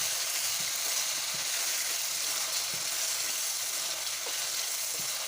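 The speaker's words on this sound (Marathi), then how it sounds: "टमाटा छान तेलात परतून घ्यायचा आहे" A steady, dense sizzle of tomato frying in hot oil, continuous and close, with faint occasional stirring sounds.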